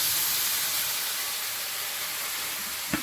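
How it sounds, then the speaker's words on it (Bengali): Water hits a hot pan holding a pointed gourd and shrimp curry, a loud broad steamy hiss that stays steady and then tapers, with a short knock near the end and no talk. "এই পটল চিংড়িটা দিয়ে দেবো তরকারিতে এবার জল দিয়ে দেবো"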